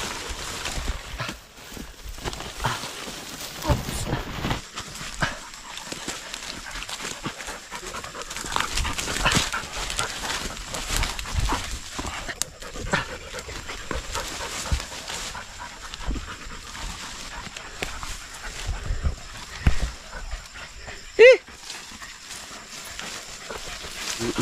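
A dog pants steadily and close, quick rhythmic breaths with occasional soft whimpers, in a grassy rural spot with brief rustling in the background.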